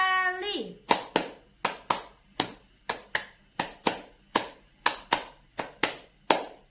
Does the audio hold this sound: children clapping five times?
yes